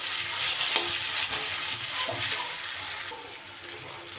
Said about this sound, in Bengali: আদা রসুন দেওয়ার পর আরও 2 থেকে 3 মিনিট খুব ভালো করে পেঁয়াজের সাথে কষিয়ে নিতে হবে